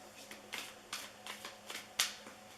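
Tarot cards being shuffled by hand during a card reading, a series of about six crisp riffling bursts at a steady pace, close up, with a faint voice murmuring in the background.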